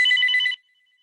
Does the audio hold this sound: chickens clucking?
no